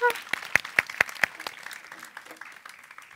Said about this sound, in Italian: Un applauso di incoraggiamento.